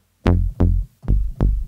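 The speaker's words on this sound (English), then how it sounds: "there's a very famous patch called this called Lately Bass or Solid Bass." The Lately Bass, also called Solid Bass, an FM patch played on the Arturia DX7 software synth: four punchy, deep plucked bass notes in a quick syncopated rhythm, each with a sharp attack and fast decay, loud and alone.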